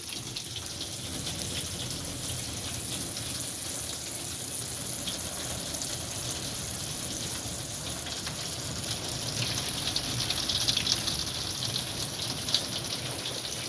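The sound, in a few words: water from a hose running into a gutter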